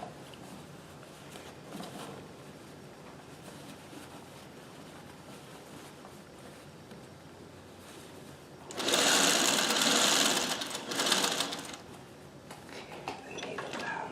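A Singer 301A sewing machine stitching a shirt sits quiet with faint mechanical ticks, then breaks into a loud, fast whirring run of stitching for about two seconds, followed by a shorter burst and lighter clicking.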